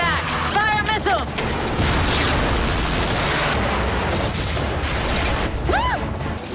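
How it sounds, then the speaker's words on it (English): Missiles fire and detonate in a loud, continuous barrage of booms and bursts, with rising whistling streaks between blasts and background voices mixed in. "Fire missiles!"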